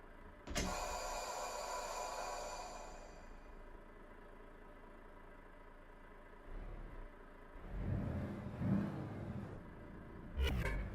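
A truck engine in Euro Truck Simulator 2 starts with a faint electric whine, then settles into a low idle rumble and rises in a couple of short revs near the end. No voices are heard.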